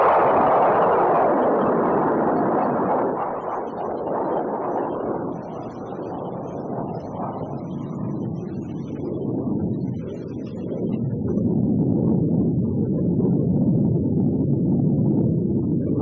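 A Nike Hercules anti-aircraft missile launches with a loud, sustained rushing roar that stays strong, dips slightly midway, then swells again across the whole span.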